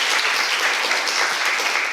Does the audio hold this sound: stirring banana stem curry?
no